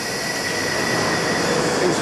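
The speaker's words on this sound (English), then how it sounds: "This is the tube station." A London Underground tube train rumbles loudly at a station in 2008, a close, continuous roar of wheels and motor with no clear break.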